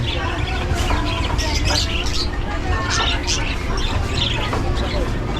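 Caged birds chirp and tweet in short scattered bursts at a bird stall in a busy weekend market in Arca South, Taguig, beneath constant crowd babble and passing voices.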